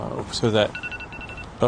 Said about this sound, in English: that's my alarm. That's okay. That means it's time.